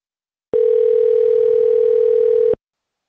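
Steady continuous telephone dial tone heard alone while a call is being placed, one unbroken loud hum lasting about two seconds before cutting off abruptly.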